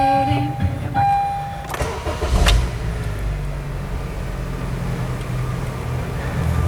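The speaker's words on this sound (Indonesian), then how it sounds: "Kita hidupin dulu ya teman-teman ya mesinnya." A 2014 Honda CR-V with a 2.0-litre engine is started: a short crank and catch, then a steady low idle that carries on to the end.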